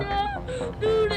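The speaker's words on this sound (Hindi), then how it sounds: "देखा दोस्तों कैसे बच्चा रो रहा है" A child cries and wails in a drawn-out, tonal, sing-song way, loud and close, with pitch rising and falling through the sobs.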